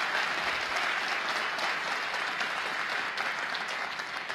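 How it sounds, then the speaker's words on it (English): A crowd claps steadily for several seconds, dense and even, at a moderate distance. "So another round of applause for the borough president."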